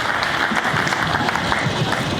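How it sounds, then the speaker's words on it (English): A room full of people at an auctioneer championship breaks into brisk applause, a thick, continuous clatter of clapping that stays loud throughout. "Give yourselves a big round of applause."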